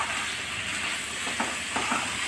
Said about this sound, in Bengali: কলিজাটা কষানোর পর্যায়ে হয়ে আসছে, আর তেল যে উপরে তেল উঠে আসছে। একটু নেড়ে চেড়ে ভালো করে নেড়ে চেড়ে দিচ্ছি।